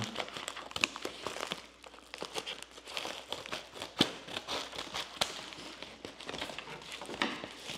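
A package from AliExpress being unwrapped and opened, with steady crinkling and rustling of packaging close by, punctuated by a few sharper tearing snaps, no talking.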